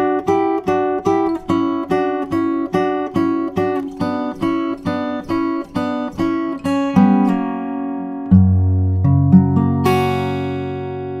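Slow fingerstyle guitar plays the Howl's Moving Castle waltz intro, an even, repeating plucked figure that moves into sustained low notes and a final ringing chord, close and unaccompanied.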